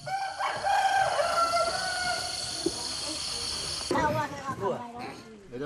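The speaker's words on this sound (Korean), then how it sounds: "닭은 멘타와이 부족의 시계이자" A rooster in a Mentawai jungle village in Indonesia crows a long, wavering call that carries through several seconds over outdoor ambience, followed by a voice talking.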